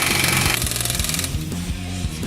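A power tool tightens the knurled coilover bolts on a 2015–2019 Ford Mustang during a Ksport suspension install, giving a close, loud burst of rapid rattling hammer impacts.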